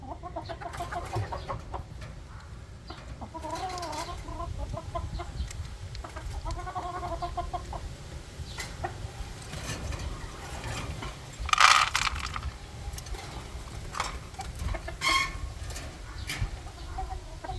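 Hens of the halimukon breed cluck and murmur at feeding time in a farmyard, with soft repeated calls, a few louder sharp squawks and background rustling, all close by.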